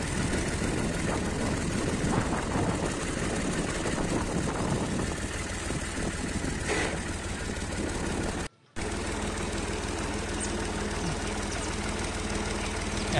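A Massey Ferguson 385 tractor engine running steadily with a loud, low diesel rumble and knocking throb, close by and continuous for over ten seconds apart from a momentary cut.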